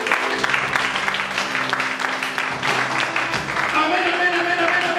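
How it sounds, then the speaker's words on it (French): A church congregation applauds and cheers loudly and continuously, with sustained clapping, shouts and a musical tone running underneath. "Acclamons très fort notre Seigneur."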